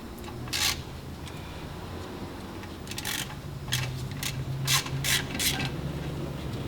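A 13 mm socket and ratchet with an extension working loose the bolts on a differential cover plate of a 2008 Chevy Tahoe: short bursts of quick ratchet clicking spaced by pauses, close, over a low background hum.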